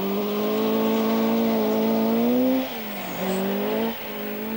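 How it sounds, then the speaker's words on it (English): A 240-horsepower rally car at the 1979 RAC Rally accelerates, its engine note rising in a steady tone, then dropping sharply with gear changes before climbing again, heard alone at moderate distance. "Hannu Mikkola gingerly feeds in 240 brake horsepower"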